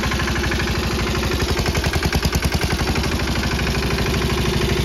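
A Mahindra Yuvraj 215 tractor engine runs steadily up close, a loud continuous diesel chug with a rhythmic knocking pulse that swells slightly midway, with no talking.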